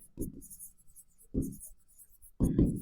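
Pen strokes scratch across paper in three short bursts while someone speaks in Hindi, working through a math proof by hand.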